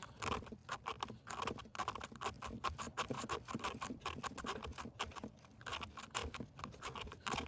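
Shavings are scraped from a flint fire starter in rapid, repeated strokes, giving close, crisp scratching bursts in a quick, uneven rhythm that continues throughout.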